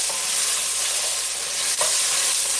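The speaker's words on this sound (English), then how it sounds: "And stir." Food being stirred in a hot pan while making a healthy breakfast: a steady, close sizzling hiss with soft scraping, plus one sharper clack near the end, and no talking.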